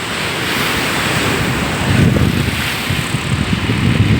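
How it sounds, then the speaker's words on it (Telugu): Ocean waves surge and break at Uppada beach beside a roadside, a continuous wash of surf with heavy wind buffeting the microphone and a swelling crash midway. "ఆ కెరటం చూడండి అలా"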